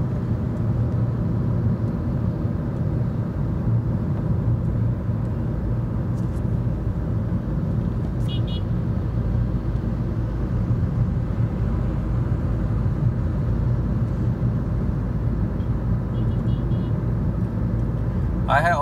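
A Maruti Vitara Brezza drives on a highway at steady speed, giving a constant low engine and road rumble heard from inside the cabin, with someone talking over it.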